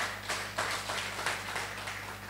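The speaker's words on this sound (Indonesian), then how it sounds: "Tepuk tangan buat Tuhan kita." Congregation clapping during a church worship service, a steady wash of hand claps with a few stronger bursts over a constant low hum, moderately distant and fairly quiet, no talk.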